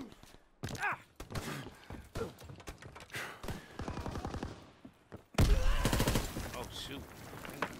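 Machine pistol gunfire in Call of Duty WW2, with rapid bursts of shots through the first half and a louder sustained automatic stream from the middle on, close and sharp.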